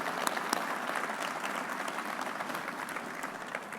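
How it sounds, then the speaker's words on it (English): Steady applause from an audience for JPMorgan Chase CEO and chairman Jamie Dimon at a university groundbreaking ceremony, dense and even throughout with sharper individual claps standing out near the start. "Let's give him a round of applause."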